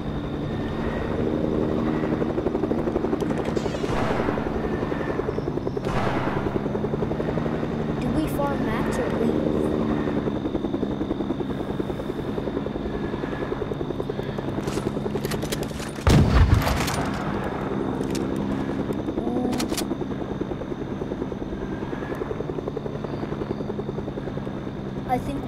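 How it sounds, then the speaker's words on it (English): A helicopter's rotor in a video game drones steadily throughout, thick and constant, with a brief sharp burst like gunfire partway through. "Someone has a helicopter?"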